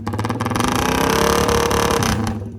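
Raider motorcycles at a loudest-pipe contest inside a mall, their engines revved hard in a sustained, blaring roar with rapid pulsing exhaust, very loud and close before dropping away near the end.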